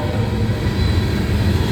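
A CSX freight train passes a level crossing at Kingston, Georgia, with a loud, steady, close rumble of rolling wagons and no voices heard.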